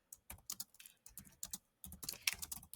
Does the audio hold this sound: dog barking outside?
no